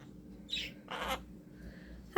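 Pet birds in a home bird room give a few short chirps and calls, with brief bursts spaced across the moment and a sharper call at the end, over a low steady room hum.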